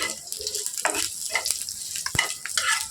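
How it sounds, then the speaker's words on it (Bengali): Garlic frying in a pan, with crackling sizzle bursts and stirring scrapes, close and irregular, with a few sharp clicks from the utensil. "রসুনটা ভাজা ভাজা হয়ে গেলে"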